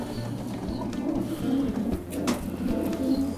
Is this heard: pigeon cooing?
yes